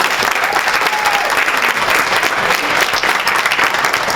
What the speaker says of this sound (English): Let's give a huge round of applause to Larry Maxey, our Vice President.